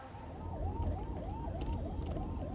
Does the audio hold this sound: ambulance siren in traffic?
yes